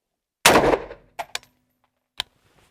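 A single sharp gunshot at the EB-MK ONE shooting position, loud and close with a short decaying tail, followed by a few faint clicks and knocks.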